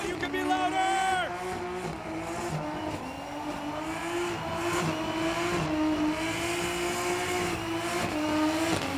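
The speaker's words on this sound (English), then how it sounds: "Jason Farron absolutely sending those tires on the main straight" A drift car's tires screech on the main straight of a race circuit, with a sustained high squeal over a roaring, revving engine, loud and continuous, with crowd and announcer noise mixed in.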